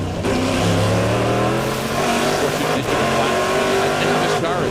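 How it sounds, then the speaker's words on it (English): Saleen and Corvette GTS race cars battling for the lead at the 2002 Cadillac American Le Mans Challenge, engines roaring steadily with rising pitch and tire noise, loud and sustained, with commentary likely underneath. "This is a good battle shaping up here, the Seline and the Corvette"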